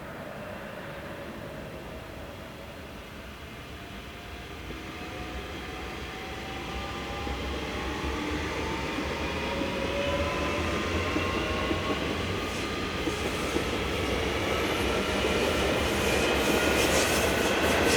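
Swiss Class 502 electric train restarting and pulling away from a station on the Chur to Basel service, with a smooth motor whine rising in pitch over a steady rolling rumble that builds slowly in loudness, and no talking.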